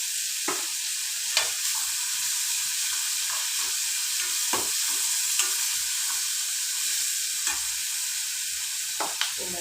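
Onion frying in a pan, a constant bright sizzle with periodic scraping stir strokes and light clinks, with no talking over it.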